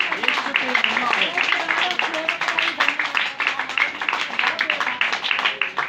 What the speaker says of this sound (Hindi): यीशु के लिए ताली हो सकती है और जोर से